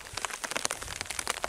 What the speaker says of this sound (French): je vis heureux sous la pluie